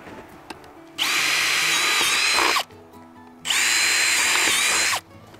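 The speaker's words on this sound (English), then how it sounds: "you take and drill yourselves two holes right here, Will." A power drill whines at high speed in two separate bursts, each lasting a second or two, drilling holes in a chicken kill cone, with quiet pauses between them.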